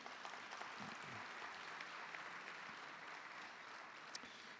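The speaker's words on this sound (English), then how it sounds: "We'll give them a round of applause." Faint, distant applause from a room of attendees at a benefit luncheon for homeless children, a continuous crackling wash of many hands clapping at an even level throughout.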